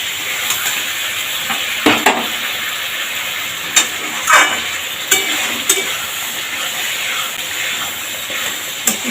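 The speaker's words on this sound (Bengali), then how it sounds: "খুব ভালোভাবে কষিয়ে নেব।" Curry paste with salt and sugar stir-fried in a pan, with a steady close sizzling hiss broken by sharp clatters from the stirring spoon.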